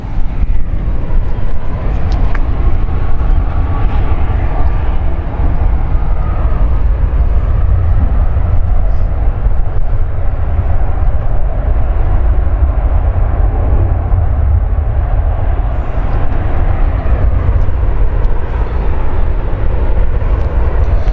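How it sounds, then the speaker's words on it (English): A Boeing 737 MAX airliner inbound at Zurich airport gives a loud, steady jet roar with heavy low rumble that holds evenly throughout, with no talk over it. "we got a 737 MAX next for the Reykjavik flight inbound"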